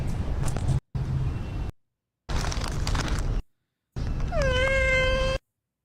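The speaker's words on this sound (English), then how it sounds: "Are these homeless cats?" Cats meow in a few short bursts separated by silent gaps, the last one a clear, drawn-out, close cry standing over a rough noisy background.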